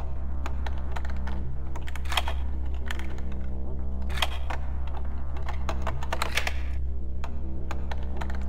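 Rapid irregular clicks and taps of lockpicking in the stealth game Thief, a dense run of small metallic ticks over a steady low hum, some bursts sharper than others, with no talk.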